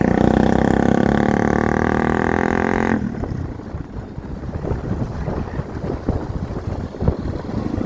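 Master's motorcycle engine runs with a rough, steady rumble and gusty wind buffeting the microphone, following a few seconds of loud music.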